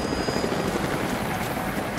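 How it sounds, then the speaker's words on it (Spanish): Helicopters approaching in the video game Rise of the Tomb Raider, a steady dense rotor thrum and engine roar filling the short stretch, fairly loud and constant. "Jacob, los helicópteros se dirigen a tu posición"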